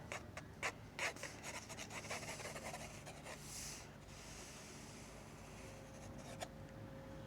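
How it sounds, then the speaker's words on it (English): A pencil scratches and rubs on paper in short close strokes while sketching outdoors for plein air painting, the quiet scraping continuing in bursts over faint outdoor background noise. "let's get to sketching"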